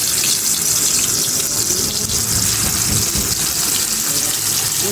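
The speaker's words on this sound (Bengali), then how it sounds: "এই তো তেলটা গরম হয়ে গেছে দেখেন। এখন হচ্ছে মাছগুলো দিয়ে দিব।" Hilsa fish dropped into hot oil in a home kitchen, frying with a steady, loud, broadband hiss and crackle that runs unbroken throughout.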